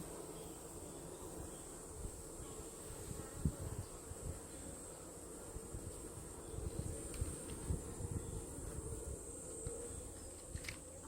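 Honeybees buzz around an open beehive, a dense continuous droning hum close by with small bumps and knocks from handling the hive, no talking.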